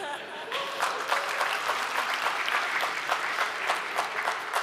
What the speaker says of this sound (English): the next question you can answer by clapping